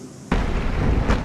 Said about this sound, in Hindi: रंगारंग आतिशबाजी